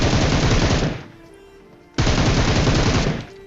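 Loud automatic gunfire from an M4-style rifle in a shooter video game, two sustained rapid bursts of about a second each separated by a short quiet gap, close and dominant, no talk.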